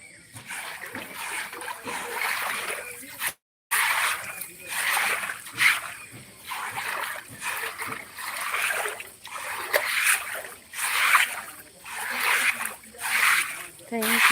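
Rainwater pours off the roof eaves and splashes onto the ground below, a steady broadband wash with rhythmic splattering pulses throughout, briefly cut off once, with voices apparently present in the background.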